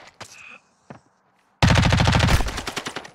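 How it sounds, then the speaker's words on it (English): Video game firefight gunfire: a few scattered single shots at first, then from midway a loud, dense burst of rapid automatic fire that pounds on steadily close by. "Every shot hit him."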